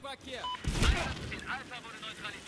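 A grenade blasts in a Battlefield 4 Domination multiplayer match, one heavy, booming burst rising out of a steady backdrop of game noise.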